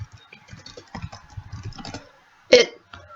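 A computer keyboard is tapped in quick, irregular bursts of soft, close keystrokes, ending in one sharper, louder clack after a short pause.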